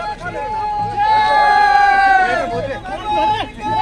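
Crowd hubbub at the Pati fair in Gairsain: raised voices and shouting blend into a close, loud babble with strong sustained vocal tones rising and falling throughout.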